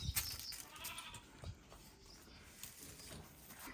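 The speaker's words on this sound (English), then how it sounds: "here's what we've got for lambs who need petting." Lambs bleat on a farm in repeated short calls, fairly close, over a busy background of rustling and small movements, with no talk.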